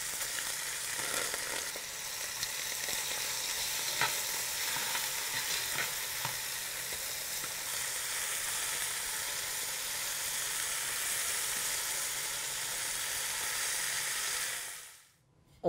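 A lamb shoulder searing in a hot pan, an even, continuous close sizzle with soft crackles that holds for about fifteen seconds and then cuts out abruptly, with no one talking.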